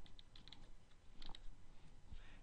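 Login credentials being typed on a computer keyboard, a short run of quiet, close key clicks in irregular bursts with brief pauses, faint and with no talking.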